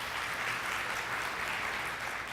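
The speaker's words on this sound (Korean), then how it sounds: "큰 박수 부탁드리겠습니다." Audience at a software product launch event welcomes a presenter to the stage with fairly faint, even applause, a continuous wash of clapping in a large room with no talk.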